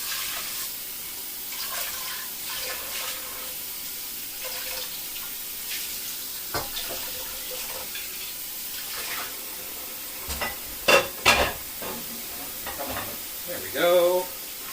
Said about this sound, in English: I'm gonna go rinse this off in the sink.